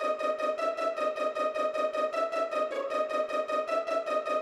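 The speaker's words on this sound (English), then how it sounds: "Without this EQ, the pizzicato would sound like this." Muddy, unequalized pizzicato string sample in an FL Studio trap beat, a steady run of plucked notes repeating in even rhythm, loud and close with no talking.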